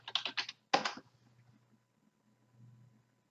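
Rapid keystrokes on a computer keyboard as search keywords are entered, a short burst of clicks followed by a sharper clack, then faint quiet room hum.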